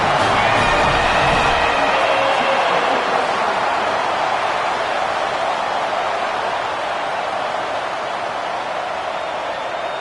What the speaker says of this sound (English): This crowd absolutely loving it as he rolled into the end zone